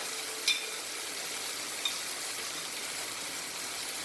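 Dry masala of turmeric, cumin powder and salt is added to spinach frying in a pan, giving a steady, close hiss of sizzling oil with two small clinks of a utensil against the pan.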